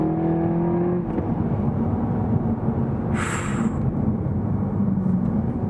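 A 2015 Seat Leon Cupra 280 with the Performance Pack driven fast, its engine a steady, loud low drone from inside the cabin, with a brief higher whine briefly rising over it.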